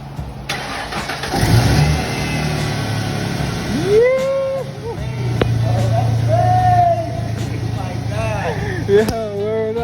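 A 1998 Ford Mustang engine cranks, catches and settles, then revs up and down in several swells, close and loud, with people talking over it.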